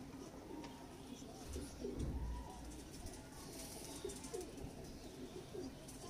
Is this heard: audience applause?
no